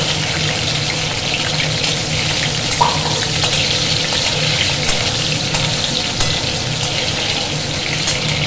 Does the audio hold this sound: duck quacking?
no